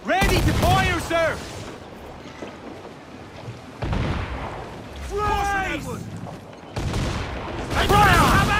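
Ship cannons firing a broadside in Assassin's Creed 4 Black Flag, heavy booming volleys in three loud bursts, with shouted commands over the blasts.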